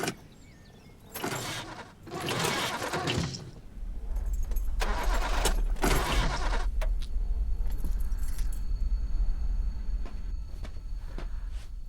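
Car keys jangle briefly, then a car engine starts and settles into a steady low idle that runs on alone, with a few clicks and door or window sounds over it.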